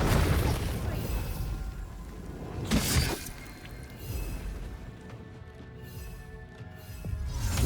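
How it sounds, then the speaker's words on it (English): A sharp burst and crash from a spell explosion in Baldur's Gate 3, one loud hit near the middle set among game sounds and faint background noise. "You do another explosion,"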